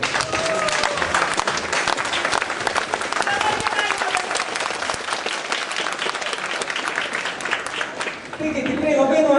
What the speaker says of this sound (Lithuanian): pradedant lėtai ir baigiant labai greitai ir garsiai, plojimais, labai noriu pakviesti ir pasveikinti jį